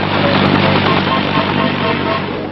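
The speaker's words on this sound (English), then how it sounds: "Helicopters bring in badly needed supplies and ammunition." Army helicopter in flight over a Vietnam War battlefield, a loud, steady, dense rotor and engine roar that fills the whole stretch without a break.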